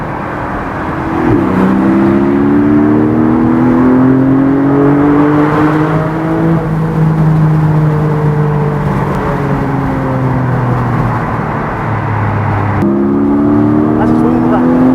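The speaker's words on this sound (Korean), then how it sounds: "8000rpm까지 올라가는 차에 한 절반 정도의 맛배기로 들려준다고 보시면 됩니다." A Porsche Boxster GTS 4.0 engine revs up and down in long rising and falling sweeps, loud and steady throughout with a brief dip near the end.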